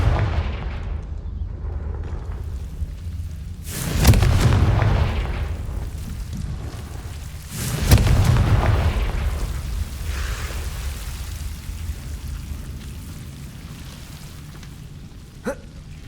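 Two Confringo blasting spell explosions in Hogwarts Legacy, each a deep booming burst with a rumbling tail, several seconds apart over low ambient hum, with a small sharp click near the end.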